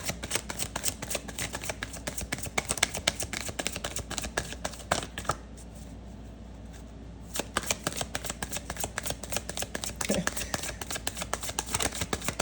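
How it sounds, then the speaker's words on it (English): Tarot cards shuffled by hand in quick, dense riffling bursts, close and fairly quiet, with a brief pause in the middle before the shuffling resumes. "Shuffle a little bit more."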